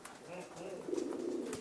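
Racing pigeons in a loft coo softly with low, rolling calls, quiet and close amid faint room noise and some background chatter.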